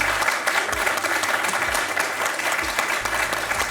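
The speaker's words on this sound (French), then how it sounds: "Et on va vous applaudir pour ce beau face-à-face que vous venez de disputer." Studio audience applause on a French television quiz show, a continuous loud, dense wash of clapping from many hands, steady throughout with faint low music underneath.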